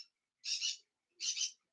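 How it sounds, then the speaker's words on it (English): A pet bird gives two short, bright, raspy calls close by, evenly spaced with silence between them. "As you can tell, my bird Quasar is being a little much today"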